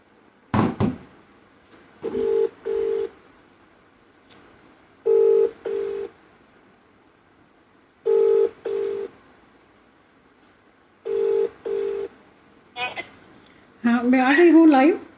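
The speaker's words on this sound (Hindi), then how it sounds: "चेरी फोन लावून दे बेटा त्यांना लवकर ये." A telephone dials a number with a quick burst of tones, then rings back in a repeated pattern of paired buzzing pulses, loud and close, with a voice starting at the end.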